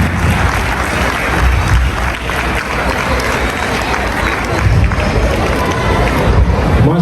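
Loud, dense applause from an audience at an education award ceremony for a Memon welfare society in Jeddah, Saudi Arabia, a steady roar of clapping filling the whole stretch with crowd noise mixed in.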